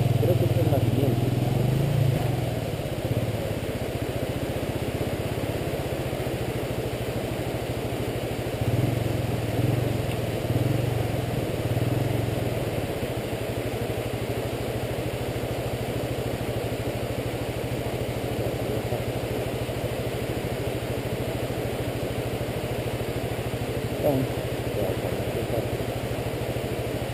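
A motorcycle engine idles steadily and close by through the whole stretch, a constant low rumble along a rural route in Quindío, Colombia, with people talking over it now and then.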